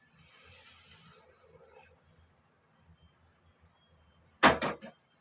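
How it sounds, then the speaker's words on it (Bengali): Hot water poured into a biryani pot of rice and spices, a short loud splashing gush of about half a second near the end after a quiet stretch. "এখন দিয়ে দেবো গরম জলটা"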